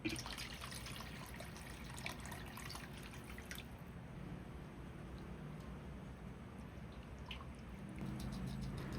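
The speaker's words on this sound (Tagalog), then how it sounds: "maglalagay na tayo dito ng tubig" Water poured into a cooking pot while making soup, heard as a faint, continuous trickle with light drips, close and quiet, with no talking.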